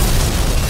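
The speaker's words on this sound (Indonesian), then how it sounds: "Bersamaan dengan itu, bom yang dipasang oleh Umine juga telah meledak." Bomb explosion in an anime, a single loud deep boom with a rumbling blast that fills the short moment at full volume.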